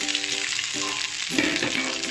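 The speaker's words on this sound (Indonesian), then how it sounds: "Kemudian kita masukkan nasi" Cooked rice being stir-fried for a mild nasi goreng seasoned with soy sauce, a steady close sizzle and crackle in a hot pan with a brief scraping stir partway through.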